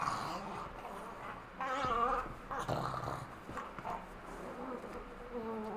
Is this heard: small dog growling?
yes